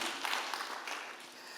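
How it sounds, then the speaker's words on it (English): Audience applause and clapping at a conversation event for Douglas Rushkoff, a faint but steady wash of many hands that holds throughout and tapers slightly toward the end. "could you give a warm round of applause to Douglas Rushkoff"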